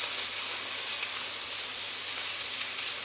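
Courgettes and chorizo sizzle steadily in a frying pan as they are stirred, a loud continuous hiss with no talking.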